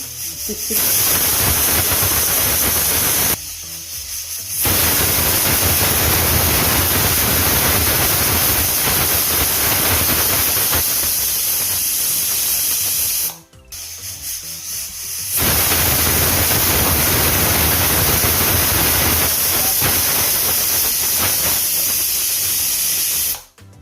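A pressure cooker on the stove letting off steam during cooking for egg masala, a loud sustained hissing rush that breaks off briefly twice and then resumes.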